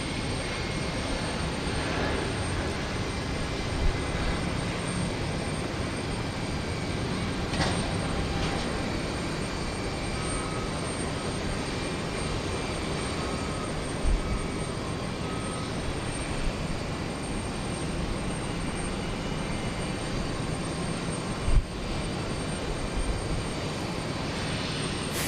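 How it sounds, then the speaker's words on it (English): Frontier Airbus A320neo jet taking off from Houston Intercontinental toward Tampa, a continuous, even roar of engines held at steady loudness throughout, heard from a distance without talk. "Frontier up and away to Tampa, an Airbus A320neo"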